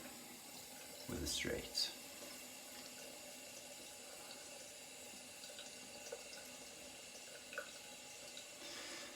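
A tap runs steadily at low volume while a razor is rinsed under it, with a brief louder splash near the start and someone speaking quietly over the running water.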